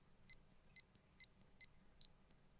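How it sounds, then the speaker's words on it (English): A SKMEI 1628 digital watch alarm sounds five short, high-pitched electronic beeps in an even rhythm, crisp and close against a quiet background. "speaking of the alarm tone, I was also a fan of this feature which they took from Casio as well"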